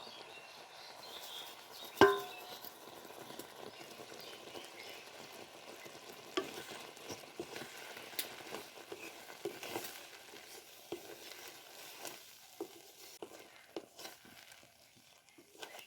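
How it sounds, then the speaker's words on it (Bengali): Mango and sugar cooking down together in a pan for pickle, a continuous soft sizzle with stirring scrapes and a sharp clack early on, no voices. "আমার আম আর চিনি প্রায় জাল দাও হয়ে গেছে, নামিয়ে নেব"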